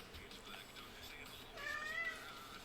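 A cat meows once, clear and fairly close, rising over a steady background murmur of a person talking quietly.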